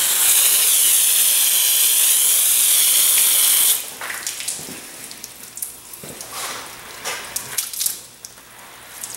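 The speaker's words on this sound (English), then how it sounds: "I'm going to give it a quick rinse to get all my neutralized acid out of the way." A hose sprays water to rinse neutralized acid off a concrete coffee table, a loud steady hiss for several seconds, then splashing, dripping and intermittent spray bursts.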